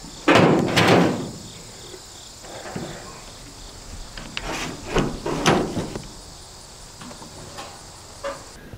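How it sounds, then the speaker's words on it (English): Basement door knocking and scraping against its jamb as it is pulled open, a loud thump at first then softer bumps and creaks, with crickets chirping steadily in the background. "we have this door that goes down to the basement that when you open it up, it catches right here on the door jamb"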